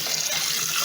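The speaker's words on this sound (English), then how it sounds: "You're going to run hot water on top of the rice, just like this." Steady hiss of hot water pouring from a tap over rice in a colander, close and fairly loud, without any speech.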